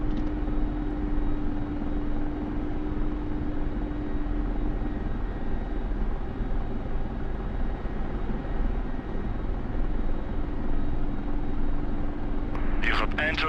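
Simulated Mi-24 Hind helicopter in the DCS flight game, a steady droning rotor and turbine hum with a constant tonal whine throughout, with a voice speaking briefly near the end.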